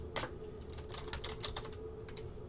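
Keys tapped on a computer keyboard while entering an order: faint, quick clicks in short irregular clusters, close and quiet, with no voices.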